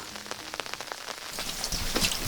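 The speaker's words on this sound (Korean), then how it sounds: "빗소리에 푸른 기운이 가득합니다" Spring rain falling in a countryside village, a dense steady patter of drops striking surfaces nearby that grows heavier and more hissing toward the end.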